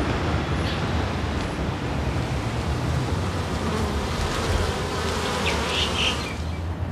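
A steady, dense buzzing of many kept honeybees on an urban city farm fills the air continuously, close and loud, with a faint outdoor background.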